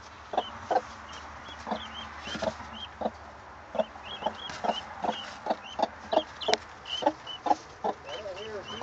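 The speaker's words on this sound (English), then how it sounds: "Three little guinea hens." Guinea hens cluck and chatter repeatedly in short, sharp calls, fairly close, with faint scratchy background and a few softer chirps in between.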